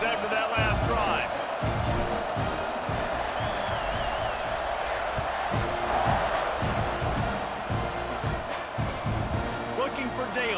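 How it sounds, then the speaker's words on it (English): A stadium crowd roars in the EA Sports College Football 26 video game, a dense, continuous wash of cheering and noise at a steady level, with a commentator talking over it throughout. "this crowd is feeling themselves after that last drive"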